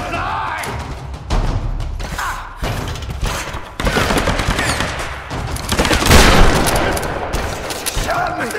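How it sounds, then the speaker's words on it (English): Rapid gunfire rings out in the action game Tomb Raider, loud repeated bursts and single shots with thuds, over tense shouting voices and combat noise. "She shot me!"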